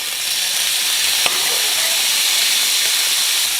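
Lamb sizzles in olive oil in a hot pan, a steady, loud hissing fry that stays constant throughout, with one faint clink partway through.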